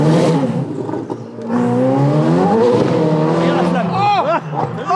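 A sports car engine roars loudly and revs up close, throwing exhaust flames, with a rising whine near the end and excited voices talking over it.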